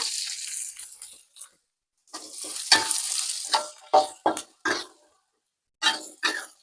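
Garlic, shallots and green beans stir-fry in oil, with bursts of loud sizzling and scraping separated by silent gaps, then several short sharp stirring strokes in quick succession; no speech.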